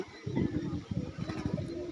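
Pigeons cooing close by in a short series of soft, low, throaty coos, with no voices.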